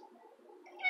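A cat gives a single faint, drawn-out meow indoors, rising slightly in pitch toward the end, with no voices alongside.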